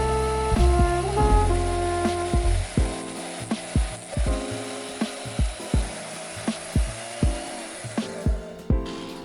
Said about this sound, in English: I'll cut out each of their profiles on the bandsaw.